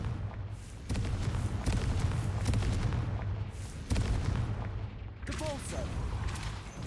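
A Confringo fire-blast spell bursts in Hogwarts Legacy, several loud booming impacts at about one, four and five seconds, each followed by crackling debris under continuous game music and ambience.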